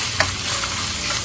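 Yellow ají chili paste browning in a pot for Peruvian moron wheat soup, giving a steady close sizzle and crackle with one brief clink of a utensil near the start, no voices.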